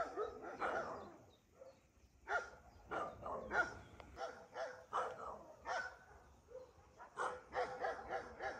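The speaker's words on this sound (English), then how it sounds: "OMG, more dogs, okay." Several dogs barking along a road in a Russian provincial village, a string of repeated yaps and barks in irregular bursts, moderately distant and fairly quiet, with some whimpering mixed in.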